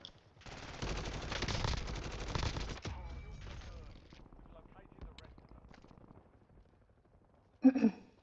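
In a shooter video game, a long burst of rapid automatic gunfire rattles for a couple of seconds, followed by scattered shots and a louder single blast near the end.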